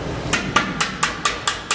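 A hammer taps sheet metal held against a dolly during custom car bodywork: seven bright, ringing metallic strikes at an even, steady pace, close and clear with no talking.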